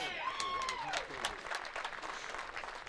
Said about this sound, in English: Crowd erupts on that one